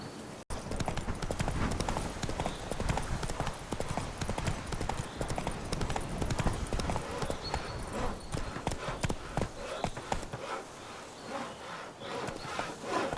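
Horse hooves clip-clopping steadily across ground in The Witcher 3, a continuous close rhythmic trot with no talking over it.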